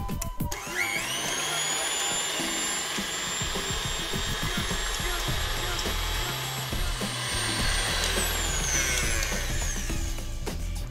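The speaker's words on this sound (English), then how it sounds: "I'm going to whisk that into a magical frothy thick" An electric whisk beats two eggs with Natvia sweetener into a frothy mixture. The whine is loud and close and runs steadily for about ten seconds, with its pitch holding and then dropping slightly near the end.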